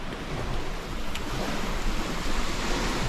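Ocean waves wash along a remote Australian coastline in a continuous broad roar that swells slightly toward the end, heard alone without any talking.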